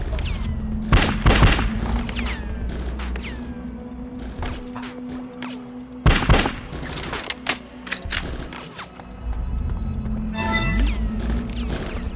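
Repeated bursts of gunfire in the video game Bad Boys Miami Takedown, with loud volleys separated by quieter stretches of mechanical game noise and a final flurry near the end.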